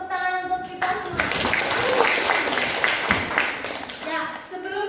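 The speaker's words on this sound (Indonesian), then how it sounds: "Tepuk tangan untuk kita semua." A class claps together in a lesson, giving a few seconds of loud, dense applause from children and teacher, with voices heard just before and after.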